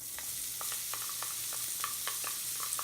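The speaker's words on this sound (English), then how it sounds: "scrape them all to the bottom of the pan and get all the bits of crystallized steak juice removed" Shallots sizzle in a hot pan that was just used for a New York strip steak, with quick spatula scrapes across the bottom ticking over a steady frying hiss at close range.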